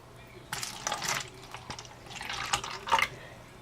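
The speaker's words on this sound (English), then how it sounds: "We're going to take some regular water and pour it into a glass." Ordinary water is poured from a pitcher into a glass in several splashy bursts of trickling and gurgling, close and fairly clear, with short pauses between pours.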